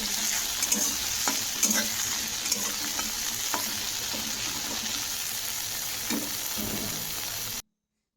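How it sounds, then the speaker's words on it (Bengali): Dried fish and onions fry in a pan with a dense, continuous sizzle and spatter, broken by the clink and scrape of stirring, before cutting off abruptly at the end. "শুটকি মাছ যেহেতু ভাজা হয়ে গেছে, তারপর পেঁয়াজও ভেজে নিয়েছি"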